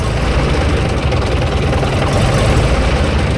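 An AEC Militant 6x6 artillery gun tractor engine runs loud and close, a steady heavy diesel rumble with a rough, throbbing low end and no break in the sound.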